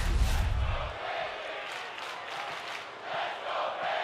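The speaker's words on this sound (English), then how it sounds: "What a crowd behind Bayley here tonight" A WWE 2K25 arena crowd roars and cheers in waves behind a wrestler's entrance, loud at first, then a sustained distant wash of cheering that swells again near the end.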